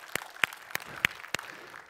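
Five sharp, evenly spaced claps ring out over quiet room noise, sounding like a single person clapping rather than a full crowd.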